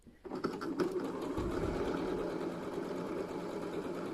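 A sewing machine stitches through the steek of a knitted lopi wool sweater, starting after a brief pause and running as a steady close mechanical whir with rapid needle ticking.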